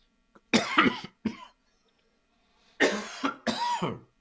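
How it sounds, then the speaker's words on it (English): Several harsh coughs in two clusters separated by a pause, close and fairly loud, with a raspy throat-clearing quality. "Coughing it up."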